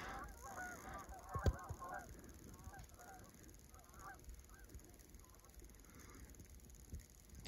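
A flock of geese honking outdoors in the Kansas countryside, repeated calls scattered through the clip at a moderate distance over steady background noise, with no talking.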